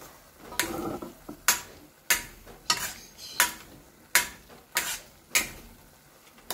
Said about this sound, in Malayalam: കുറച്ച് സമയം അടുപ്പത്ത് വെച്ചിട്ട് ഇളക്കി കൊടുക്കണേ